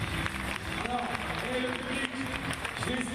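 Dense stadium crowd cheering and applauding at a para climbing competition, a steady roar of many voices and clapping filling the space, with talk mixed in.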